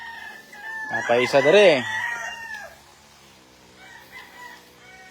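A local banded stag gamefowl rooster crows once, loud and close, its drawn-out call rising and then falling, with a brief spoken phrase and faint farmyard noise around it.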